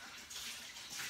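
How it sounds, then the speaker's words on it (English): Water is tipped out of a container in a kitchen while thawing chicken for tenders, a short, soft splashing rush that runs steadily for about a second. "So I'm just gonna pour this water out."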